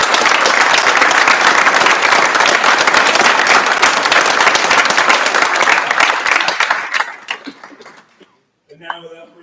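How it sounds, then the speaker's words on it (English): A large audience at a school celebration of learning claps loudly and steadily for several seconds, the applause thinning out and fading before a speaker's voice returns. "If we could have a round of applause"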